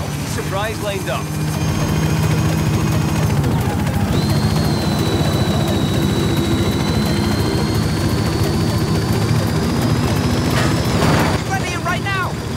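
A loud helicopter in Forza Horizon 5 drones steadily throughout, a heavy engine rumble with a rising whine, and brief chirpy sounds at the start and end.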